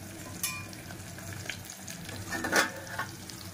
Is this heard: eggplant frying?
yes